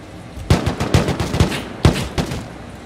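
AK rifle fire in the video game Rust: short bursts of loud, punchy shots in quick succession, a rapid string followed by a brief pause and a few more rounds.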